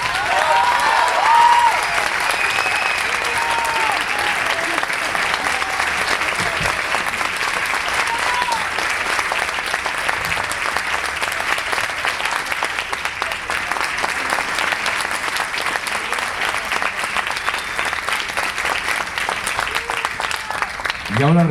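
Sustained, steady applause from a theatre audience welcoming a musician onto the stage, loud and even throughout with a faint crowd murmur beneath.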